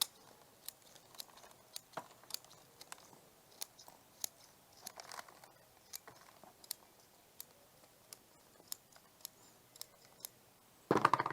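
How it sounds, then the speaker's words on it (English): Sharp scissor snips trimming the roots of a spekboom bonsai, a steady series of crisp, isolated clicks spread at irregular intervals, close and fairly quiet, with no talking. "I'm going to come in and trim some of these roots off so it sits a little bit nicer"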